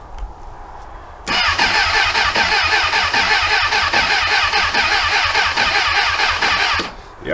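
A Suzuki motorcycle engine cranks over loudly on a cold start attempt, a steady fast-pulsing starter whir running about six seconds without catching, close to the mic, with no talking.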